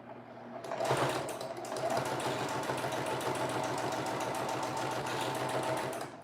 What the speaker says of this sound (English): your sewing machine sews at different speeds